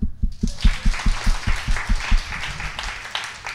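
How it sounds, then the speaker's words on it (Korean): A congregation claps in a steady rhythmic beat during a church sermon, loud and close, with excited voices rising over the clapping before it fades out. "박수."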